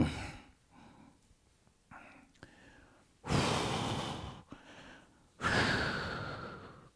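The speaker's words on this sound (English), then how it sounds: "You can hear me breathing." Heavy breathing during a leg workout: soft breaths early, then two long, loud, close exhales, with no other sound around them.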